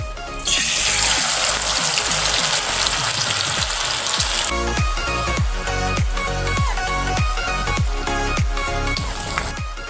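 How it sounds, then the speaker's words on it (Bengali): Pumpkin leaves dipped in gram flour batter hit hot oil, setting off a loud, steady sizzle that softens after a few seconds while spoon scrapes tap rhythmically against the pan. "এবার আমি ওই পাতাগুলো এই বেসনের মধ্যে ডুবিয়ে তেলের মধ্যে দিয়ে দেব"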